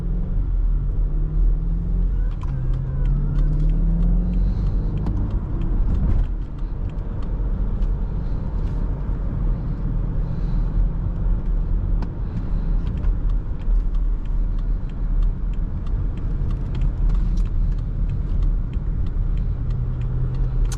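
A 2017 BMW X5 xDrive50i accelerates on the road, its engine a deep, steady rumble with rising and shifting tones under constant road and wind noise, close from inside the cabin, no talk.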